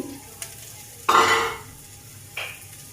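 Chopped green chilies, onion and garlic drop into a preheated kadai with a sudden loud sizzle that fades, followed by a few stirring scrapes; no talking.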